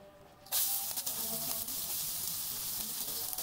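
Mustard oil bursts into a loud, steady sizzle and hiss in a hot pan, starting abruptly and holding constant throughout with no talk.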